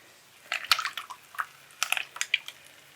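Liquid soap mixture poured into a big bucket makes irregular splashy drips and gurgles, quiet and close, in two clusters of wet spattering bursts.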